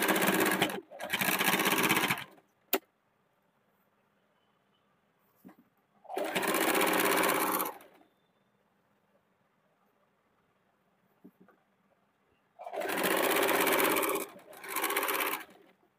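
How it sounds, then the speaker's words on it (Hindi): Sewing machine stitching the side seam of a kurti made from a saree, running in three separate bursts of about two seconds each with quiet pauses between. "मैं सिल के आप लोग को दिखा देती हूँ।"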